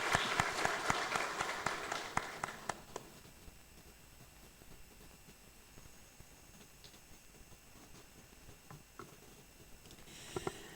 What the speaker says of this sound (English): let's give Prof another round of applause.